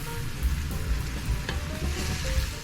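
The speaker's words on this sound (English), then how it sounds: "Add soy sauce to the ground beef, then saute." Ground beef sautés with soy sauce in a pan, giving a steady low sizzle close by with soft stirring scrapes and no talking.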